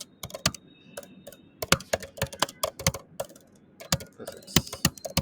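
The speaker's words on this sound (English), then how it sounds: "I'm just typing a sample answer" Typing on a computer keyboard: irregular bursts of close, crisp key clicks with short pauses, entering a sample answer during a dictation practice exercise.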